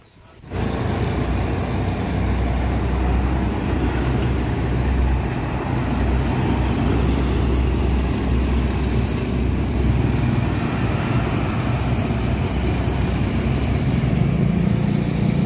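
PO Haryanto bus of the BW Haryanto unit idling, a steady low engine rumble that starts abruptly and runs loud and unbroken throughout, heard from close by.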